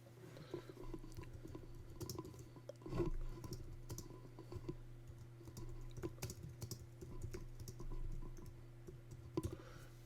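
Typing on a computer keyboard to enter a note in shelter management software, a steady patter of soft key clicks at close range with a low steady hum underneath and no talking.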